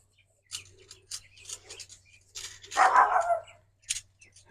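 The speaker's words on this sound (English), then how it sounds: "I got rid of my dogs barking. Now the neighbors are." Neighbors' dogs bark in a few short, sharp bursts at moderate distance outdoors, with a low steady hum and a faint bird chirp in the background.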